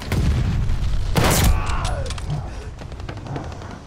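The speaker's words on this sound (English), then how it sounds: "Heads up, enemy glide bomb coming in hot" An enemy glide bomb explodes in a video game, a loud close blast with a sharp burst partway through and a rumbling tail that fades out over a few seconds, with no one speaking.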